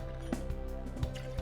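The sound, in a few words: pouring Borghetti espresso liqueur into a shaker tin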